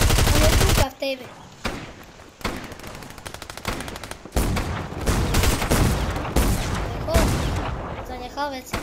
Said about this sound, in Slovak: Tam ho strieľam.